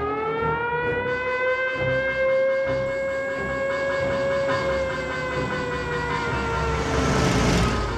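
An air raid siren sounds during an enemy air raid on Chengnanzhuang in 1948, a loud, steady, wailing tone that holds close and continuous throughout, rising into a harsher noisy swell near the end.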